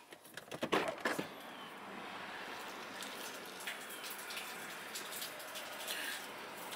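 Water pours out in a steady gushing stream after a few brief knocks and splashes at the start, continuing close and moderately loud with no talking.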